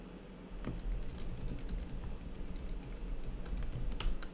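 Rapid keystrokes on a computer keyboard as a lesson title is entered in teacher-training software: a steady, close run of light clicks over a faint background hum.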